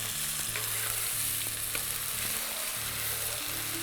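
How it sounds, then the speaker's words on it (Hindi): Raw pea paste roasting in hot oil for a matar nimona, a steady close sizzle and frying crackle with occasional stirring scrapes, no talking. "अब हम ये जो मटर का पेस्ट है इसको भून लेते हैं"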